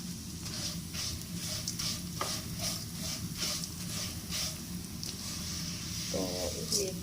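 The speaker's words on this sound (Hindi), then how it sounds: "ये 1 कप हमारी सवैयों का है, ये डालेंगे। इसको करेंगे अच्छे से रोस्ट" Vermicelli roasting in hot ghee in a pan while being stirred: a steady, close sizzle runs throughout, with light scraping and stirring clicks.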